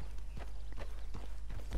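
Horse hooves walking in Red Dead Redemption 2 in a regular clip-clop rhythm, close and fairly soft over a low steady rumble, a wild American Paint horse in New Austin.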